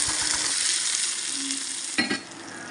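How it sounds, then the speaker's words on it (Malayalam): Hot tempering with dried red chillies poured into mango pulissery curry, steady frying sizzle with a few stirring clinks, then a sudden loud hiss and crackle as the oil hits the curry before quieting. "ഇനി ഈ താളിപ്പ് നമുക്ക് മാമ്പഴ പുളിശ്ശേരിയിലേക്ക് ചേർത്ത് കൊടുക്കാം."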